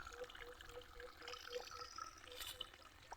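Quiet spring water trickles and babbles steadily from a well, with small drips and splashes heard faintly.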